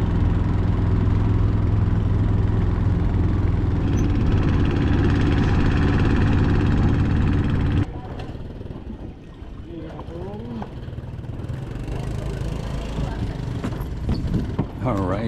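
A steady, droning boat engine hums loudly and continuously on a short river crossing in Krabi, Thailand, then drops to a lower rumble with faint voices and water sounds behind it.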